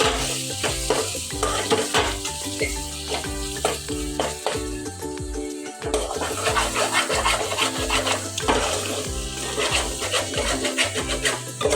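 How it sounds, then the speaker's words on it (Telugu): Egg curry masala frying in oil in a pan, stirred steadily with a spoon that scrapes and clinks against the bottom over a continuous close sizzle. "ఇలా కింద అంటుకోకుండా ఒక్కసారి బాగా కలుపుకోండి"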